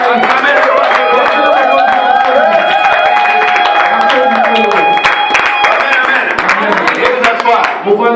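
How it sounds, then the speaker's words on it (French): A church congregation claps and cheers loudly and continuously at a Sunday service, rhythmic hand claps over a crowd roar with sustained shouted voices. "Acclamez le roi des rois."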